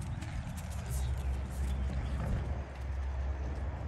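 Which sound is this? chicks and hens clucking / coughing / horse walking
horse walking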